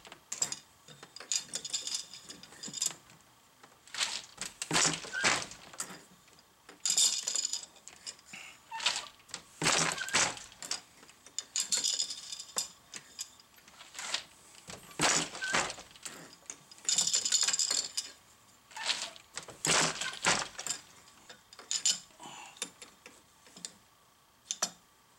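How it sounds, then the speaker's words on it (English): Hand loom in use for the last couple of shuttle throws, giving repeated wooden clacks and mechanical knocks in bursts, with the beater and treadles working in an uneven rhythm, close and fairly loud, with no talking. "the last bit of weaving, the last one or two throws."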